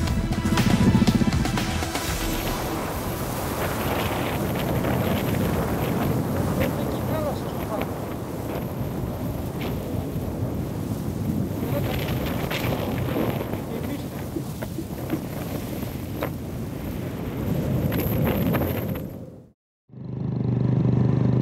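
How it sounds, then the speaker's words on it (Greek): Strong wind batters the microphone on a mountain saddle at about 2,100 metres on Helmos, a loud continuous buffeting roar that holds for nearly the whole stretch before cutting off abruptly near the end. "Ο αέρας εδώ ψηλά είναι τρομερά δυνατός."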